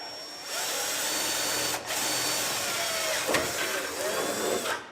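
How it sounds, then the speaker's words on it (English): A power drill whirs continuously, close and loud, as it bores holes in a car hood, with a brief dip partway through. "let's drill some holes."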